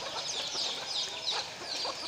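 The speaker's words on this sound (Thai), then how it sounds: "มีแม่ไก่แม่ลูกอ่อนด้วย มีลูกหลายสิบตัวด้วยกัน" A mother hen clucks softly and repeatedly while her brood of dozens of chicks peeps in high, overlapping chirps, all close and moderately loud with no speech.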